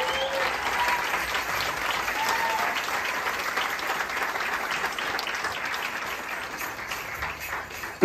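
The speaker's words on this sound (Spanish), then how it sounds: "un fuerte aplauso para él también, por favor." Sustained applause from a crowd, a dense, even patter of clapping that carries on steadily throughout.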